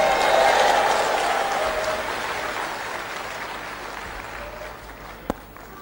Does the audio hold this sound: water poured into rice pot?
no